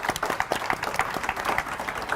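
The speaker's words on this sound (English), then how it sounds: "give Grandma a round of applause" Small group applause for a grandmother's heavenly 100th birthday celebration, a light patter of hand claps, close and steady for a couple of seconds, with faint voices underneath.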